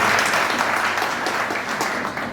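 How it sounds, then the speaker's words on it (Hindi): Loud audience applause at an agricultural university gathering in Jhansi, a dense, steady wash of many hands clapping that holds strong throughout and eases slightly toward the end. "एक बार जोरदार तालियां"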